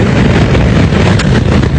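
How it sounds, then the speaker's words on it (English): Strong wind buffets the microphone on an open motorcycle track, a loud, continuous roar with no talk. "Really windy out here though"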